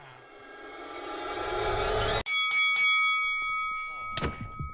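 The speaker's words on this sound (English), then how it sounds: "On the sound of the bell." A bell in a Minecraft match rings to start a red-versus-blue round, several sharp metallic strikes with ringing tones cutting through game noise.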